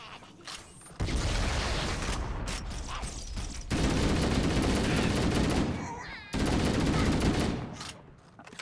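Gunfire in the shooter Halo: Combat Evolved comes as long, dense automatic bursts, loud and close, separated by short gaps, with mechanical rattling between volleys.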